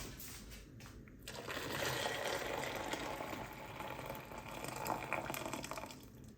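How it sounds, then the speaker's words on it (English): Boiling water is poured in a steady, quiet stream while making homemade yogurt, a soft continuous splashing and gurgle that swells slightly midway and carries on alone without speech. "put in hot water. I use boiling water."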